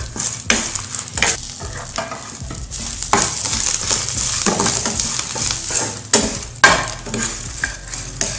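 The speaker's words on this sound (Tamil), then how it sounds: "அதில் வரமிளகாய் சேர்த்துடலாம். ரொம்ப கருகாமல் வறுத்துக்கணும்." Dry red chillies roast in a pan for a chutney, a steady sizzle and hiss broken by scraping and stirring sounds, close and fairly loud with no talking.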